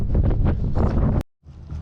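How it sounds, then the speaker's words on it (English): Strong wind buffets the microphone outdoors while fishing, in a loud, rumbling roar, briefly cutting out before gusting back in. "It is very windy."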